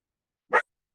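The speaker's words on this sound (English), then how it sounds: "Oh, there goes the dog." A lone short dog bark rings out once, moderately close, with silence before and after.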